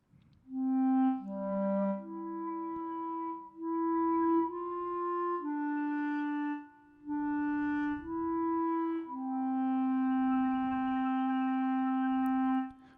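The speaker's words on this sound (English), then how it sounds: "So you can hear these little frequencies in the background kind of coming in and out as I adjust the high" Synthesized sustained tones run through a flange chorus effect while a high pass filter is swept, giving a steady sequence of held notes with thin shimmering overtones that fade in and out, alone with no talk.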